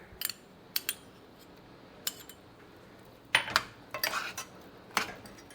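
A spoon stirs butter and lemon juice in a dish, giving a few sparse, quiet clinks and scrapes against the dish with short pauses between them.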